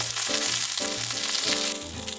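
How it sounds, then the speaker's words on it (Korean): Food stir-fried in oil in a pan at a campsite in Gapyeong, a loud continuous sizzle with rhythmic scraping and stirring strokes roughly every half second, close up and without talk. "기름에 볶아야 맛있으니까 좋아 여기에"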